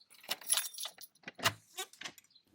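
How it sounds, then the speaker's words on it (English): Keys jangle and rattle in a series of sharp metallic clinks while someone works to unlock a garage door, close and fairly quiet, with brief pauses between bursts. "I need the keys to unlock the door."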